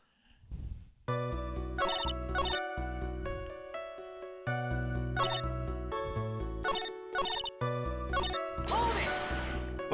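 A cell phone rings inside a pocket in Phoenix Wright: Ace Attorney - Justice For All, a loud, bright electronic ringtone melody repeating in bursts over about nine seconds, with a brief noisy flourish near the end.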